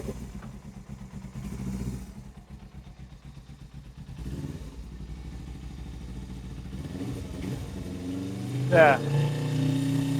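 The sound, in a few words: Suzuki GS 500 motorcycle engine running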